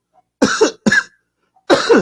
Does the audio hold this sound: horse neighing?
no